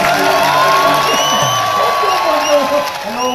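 A live comedy audience cheers, whoops and applauds as comedians come on stage, a loud, sustained crowd roar with shouts and claps filling the whole stretch.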